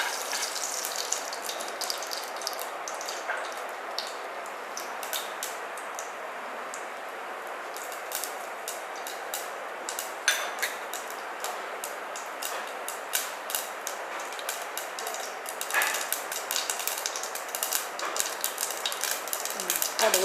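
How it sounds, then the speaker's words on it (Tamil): Mustard seeds and urad dal spluttering in hot sesame oil for a Tamil mochai paruppu kuzhambu, a continuous close crackle with frequent sharp pops scattered through it. "கடுகு பொரிஞ்சிருச்சு."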